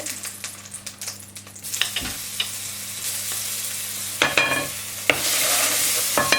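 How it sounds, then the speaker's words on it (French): Pressed garlic crackles in hot coconut oil, a close, steady sizzle with sharp ticking pops and stirring clicks, swelling into a brighter, louder hiss toward the end. "Une fois que l'huile est assez chaude, on va venir presser l'ail."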